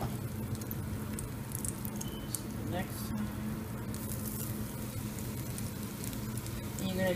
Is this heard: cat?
no